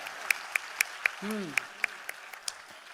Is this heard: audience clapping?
yes